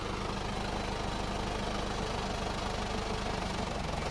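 A Case 580B backhoe diesel engine idling, a steady, continuous low rumble with even knocking pulses, loud and close throughout, with no talking.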